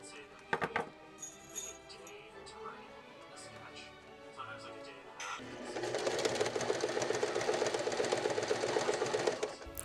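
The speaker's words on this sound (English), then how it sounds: "I was done with machine sewing after attaching the tape to the top" Sewing machine stitching tape and a strap around the opening of a quilted Christmas stocking, a brief start followed by a steady, loud mechanical whirr of continuous stitching.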